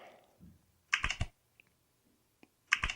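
Switch in a fidget toy phone app gives two short bursts of crisp clicks, a quick cluster near the start and another near the end, with soft faint ticks between over a quiet background.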